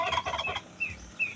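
A turkey gobbles in a farmyard, two or three quick rattling bursts close by, followed by a couple of short higher calls, with no voices present.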